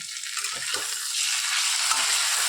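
Mustard paste of black and white mustard seeds being stirred gently in a hot pan: a continuous hiss of frying broken by a few soft scraping spatula strokes, close and fairly loud, with no talking.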